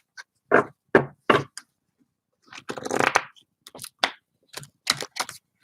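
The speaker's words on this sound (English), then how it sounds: "Let me go ahead and shuffle." Two or more tarot card decks are shuffled up close in crisp bursts: several sharp slaps and taps, a longer riffling rush in the middle, then more quick card knocks, with no talking.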